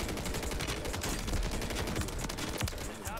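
Rapid, dense gunfire in Call of Duty Warzone on Rebirth Island, with overlapping shots crackling close and loud in near-continuous bursts for the whole stretch.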